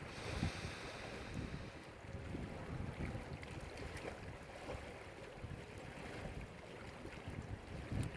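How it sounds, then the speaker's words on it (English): Wind blows across open water with a steady rushing hiss and low buffeting, waves lapping beneath; no voices. "You listen to the water."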